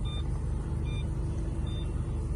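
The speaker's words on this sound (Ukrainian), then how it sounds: "Коротше, задня передача, парктонник пищить." Inside a 2011 Mazda 3 in reverse gear, the parking sensor gives faint, evenly spaced beeps, about three in quick succession, over a steady low engine hum.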